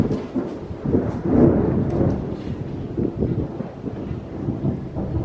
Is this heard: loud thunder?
yes